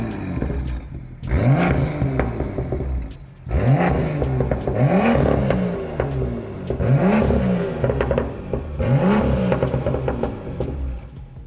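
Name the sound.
BMW M2 exhaust revving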